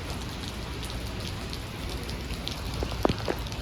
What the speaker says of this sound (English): Max, unfortunately, it's raining now.